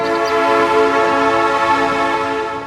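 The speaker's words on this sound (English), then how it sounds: "He's a miniature locomotive" A cartoon miniature locomotive, a little engine fitted with car wheels, gives a steady loud tonal whistle-like hum that holds for a few seconds and fades slightly at the end.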